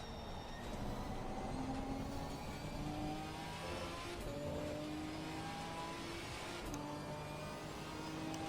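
Race car engines in Gran Turismo 4 career mode hold a steady, loud drone with rising and falling rev tones as the car is pushed hard, gears shifting through the stretch, continuous with no pauses.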